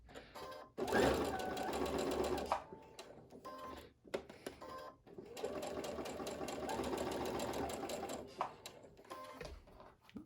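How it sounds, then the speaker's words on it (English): A regular household sewing machine stitches a cloth mask around a curve in two steady runs of rapid mechanical whirring and clatter. The runs are separated by short pauses and a few handling knocks, heard up close. "You do have to go slower with a regular sewing machine around this curve."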